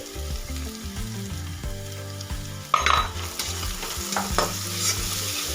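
Spring onion greens and turmeric stirred and fried in a pan for a traditional onion-greens vegetable dish, with steady close sizzling, a spoon scraping in a regular rhythm, and a louder clatter midway.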